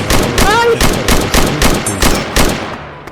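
Sustained automatic fire from an AK-47 in the open-world video game Project Bengal: a rapid, loud string of about eight to nine sharp shots in steady rhythm that trails off at the end.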